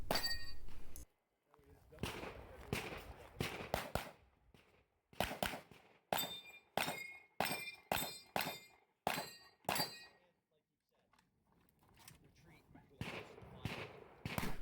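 Gunfire at a 3-gun match stage in winter, including shotgun shots, heard as a series of sharp, loud reports in irregular bursts with short pauses and metallic target clangs between them.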